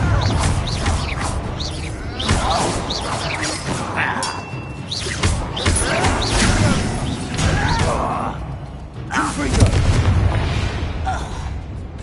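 An explosion from the Confringo spell in a Harry Potter video game set near an abandoned mine, loud booming blasts and crashing rumbles that rise and fall over several seconds.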